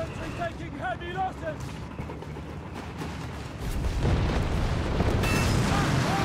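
Howitzer shells in a Company of Heroes 3 battle land in deep, rumbling booms and bursts, growing heavier and denser toward the end, with a commentator talking over the barrage.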